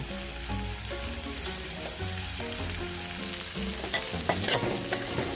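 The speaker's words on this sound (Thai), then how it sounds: "ผัดเลยครับ ใส่ผักทุกอย่างแล้วนะครับ" Spicy sea catfish stir-fried in a wok with vegetables, sliced aromatics and torn kaffir lime leaves makes a continuous close sizzle and scraping stir, over a bed of background music.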